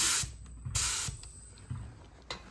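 Air-compressor-powered paint spray gun at about 3 bar, fired in several short hissing bursts separated by pauses, close and fairly loud.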